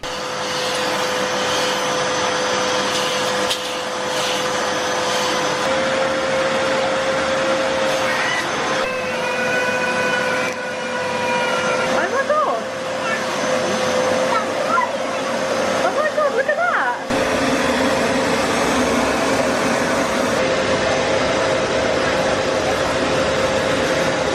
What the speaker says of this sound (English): the fact that I can get the carpet cleaner out and just go over it is amazing